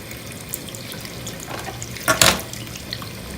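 Tap water runs over an amethyst crystal cluster as it is washed: a low, steady wash of noise, then a brief, louder splash about two-thirds of the way through. No one speaks.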